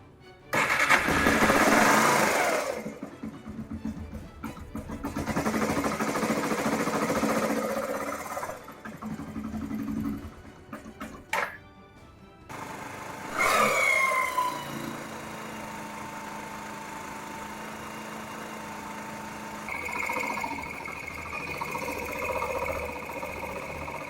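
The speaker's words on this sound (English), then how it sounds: "Okay, we adjust the idling screw higher up." Yamaha XTZ 125 motorcycle with a freshly cleaned and adjusted carburetor and an idle screw turned up: the engine cranks and catches in bursts, stalls, restarts, then settles into a steady, close idle that rises slightly near the end.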